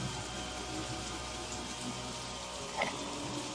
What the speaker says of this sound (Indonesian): mendadak hujan mulai turun kembali.